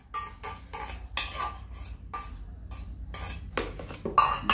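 Flaxseed gel being stirred into shampoo in a cup, giving a run of close, repeated scraping and clinking strokes in an uneven rhythm, with brief pauses between bursts.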